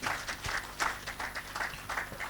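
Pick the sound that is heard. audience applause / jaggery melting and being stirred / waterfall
audience applause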